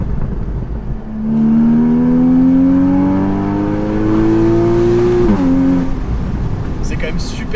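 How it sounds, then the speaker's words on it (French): A Porsche engine, either a 944 Turbo or a Boxster 2.7, holds a strong, steady revving drone in fourth gear, then blips sharply as the driver downshifts, loud and close inside the car, with road noise around it. "Et même, là je suis en 4ème, je rétrograde."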